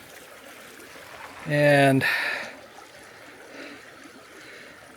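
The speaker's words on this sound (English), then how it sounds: "Beautiful stream right beside the road I'm on." A clear, crystal-clear mountain stream flows beside a road, giving a steady, soft rushing wash of water throughout, with a brief spoken word briefly rising over it.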